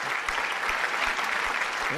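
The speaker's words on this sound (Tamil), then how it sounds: "அவருக்கு நல்ல ஒரு கைத்தட்டல் நம்ம கொடுக்கலாம்" Audience clapping for a speaker at a Tamil Independence Day special debate, a dense continuous burst of applause from a crowd, loud and even across the short span.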